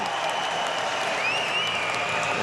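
A boxing crowd at the 2006 Commonwealth Games in Melbourne applauds steadily after the first round of a lightweight bout, a dense, even roar of clapping and cheering with a faint whistle-like tone riding over it.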